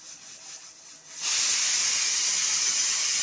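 A pressure cooker lets off steam while cooking aloo soyabean gravy, a sudden loud, sustained hiss that starts after a quieter stretch and stays steady to the end, with no talking.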